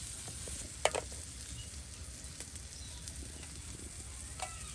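Dumur figs fry in a pan during outdoor village cooking, a faint, even sizzle with a few light clicks and stirring taps, and no voices.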